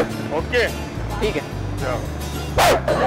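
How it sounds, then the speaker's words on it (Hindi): A dog barks several times in short bursts while people talk over it nearby. "कुत्ते की आवाज आ रही है"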